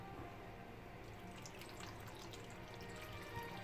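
Hot water is poured into a Japanese convenience-store udon cup, a faint, quiet, continuous trickle with no talk over it.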